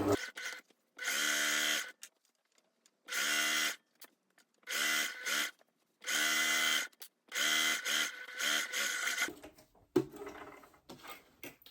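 A sewing machine stitches along the edge of a padded sleeve, running in loud, buzzing bursts of a second or so, separated by short silences and followed by softer handling noises.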